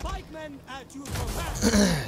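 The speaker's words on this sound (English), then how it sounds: "I'm sure it's fun for you to just continually listen to me clearing my throat." A man clears his throat a few times in quick, raspy bursts close to the microphone, followed by a breathy groan, with no talk.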